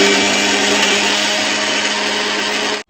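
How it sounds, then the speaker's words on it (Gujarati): A mixer grinder blends dried red chilli and garlic with salt and a little water into a chutney, a loud, continuous whirring roar that holds steady for a few seconds and then cuts off abruptly. "અને મિક્સરમાં ગ્રાઇન્ડર કરી નાખશું"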